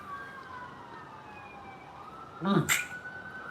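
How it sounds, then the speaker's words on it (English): Two faint siren tones sweep slowly downward in the distance, then a brief loud burst of noise cuts in near the end. "We have sirens."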